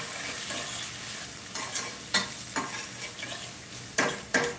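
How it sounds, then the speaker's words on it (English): Vegetables for a vegan vegetable korma are stirred in a hot pan, giving a loud, steady sizzle with several sharp scrapes of the utensil against the pan. "I also need to stir this so that it doesn't get burned"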